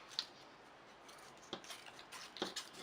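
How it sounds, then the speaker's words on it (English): Three quiet, crisp snips of scissors cutting close along the edge of painted paper, spaced unevenly over a few seconds, with near silence between cuts. "take a pair of scissors and you want to go very close to the edge"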